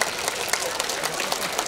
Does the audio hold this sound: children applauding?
yes